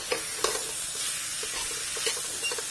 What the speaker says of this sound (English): I'll add some julienne prosciutto. We'll kind of saute that all together.